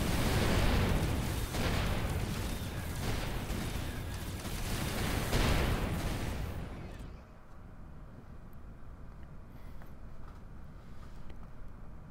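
Heavy cannon and railgun fire with explosions rumbles in a space battle in the game Avorion, dense booming blasts pounding for several seconds before cutting to a quieter, thin background hum.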